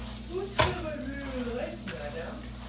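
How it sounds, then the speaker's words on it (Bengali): Mughlai paratha fries in a generous amount of butter in a pan, giving a soft, steady sizzle with one sharp clatter near the start, close and moderately quiet. "আমি অনেকটা বাটার দিয়ে দিব দেন এটাকে খুব সুন্দরভাবে ভেজে নিব"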